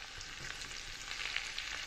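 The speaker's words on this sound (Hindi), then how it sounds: "1/2 टीस्पून अदरक और लहसुन की पेस्ट डालेंगे। इसे अच्छी तरह सौते करेंगे।" Ginger-garlic paste and fresh coriander sizzle in hot oil for a khichdi tadka, a brief steady crackling fry with faint stirring, close and moderately quiet.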